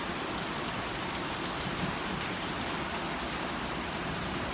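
Rain falling outside by a porch, with a gutter running off into a barrel, makes a steady, dense hiss of drops on surfaces, constant and fairly close with no voices.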